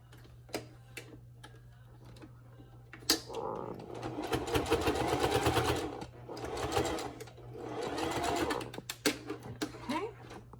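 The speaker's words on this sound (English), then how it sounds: "I'm going to put this up here on my machine and just throw a little stitch in" A sewing machine runs in two steady bursts of rapid stitching while a face mask is tacked in place, with scattered ticks and clicks from handling before and between the runs and a steady low hum underneath.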